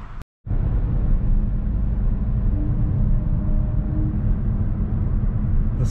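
Continuous low road rumble and engine hum from a 2023 Hyundai Kona with a 1.6 T-GDI engine and seven-speed automatic while driving, steady and fairly loud after a brief cut at the start.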